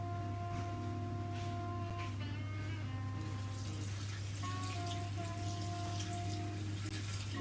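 Filtered water pours steadily into a bowl holding agar-agar strands for milk pudding, a continuous close splash and rush over a low steady hum, with no talking.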